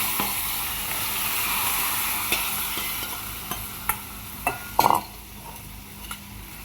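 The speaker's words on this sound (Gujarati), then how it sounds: "આપણે શાક તો વઘારી દઈએ" Green onion and potato vegetables with spices sizzle steadily in a hot pan, close up, while a spoon stirs through them with a few sharp scraping knocks.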